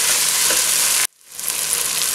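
Mutton frying with spice powders in a pan for biryani, a loud, close, crackling sizzle that cuts off abruptly for a moment, then builds back to a strong hiss.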